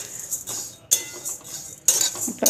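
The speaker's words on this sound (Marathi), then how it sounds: "धन, जिरं आणि ओवा आपण एकत्रच भाजून घेतले आहेत।" Coriander, cumin and ajwain dry-roasted together in a pan over low gas, stirred with a metal spoon: a few scraping, clinking strokes against the pan amid soft sizzling, close and moderately loud.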